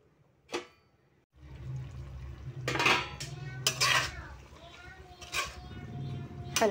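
Lid set onto a cooking pot of sardines and alugbati greens with a clear metallic clank, followed by further clattering of pot and utensils and a low hum of cooking.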